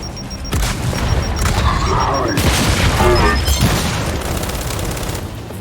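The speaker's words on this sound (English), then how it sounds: "Fire in the hole! Frag out! Throwing grenade!" A frag grenade detonates in the video game Gears 5 with a loud, deep boom amid bursts of combat gunfire and clattering debris, all close and dense for a few seconds.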